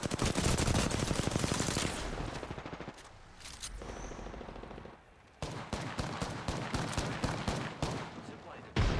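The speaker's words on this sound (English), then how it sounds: "The enemies are shooting at me." Rapid automatic gunfire in an Apex Legends firefight, dense bursts of loud close shots that briefly thin out and then resume in a steady stream of cracks.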